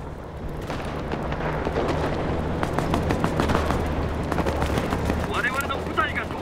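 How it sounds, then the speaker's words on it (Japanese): A Pacific War battle on Gavutu North in the shooter Enlisted rumbles with a continuous artillery bombardment: booming blasts, crackling gunfire and explosions pile into a dense, loud barrage, with voices faintly under the noise. "了解、砲撃確認。"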